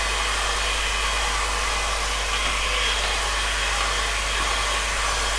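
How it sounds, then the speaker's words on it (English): An air dryer blows steadily on watercolour paper during a painting session, a constant loud rushing whoosh with a low hum underneath that continues unbroken from start to finish, with no talking. "Just give it a quick blast with the air dryer, make sure it's all dry"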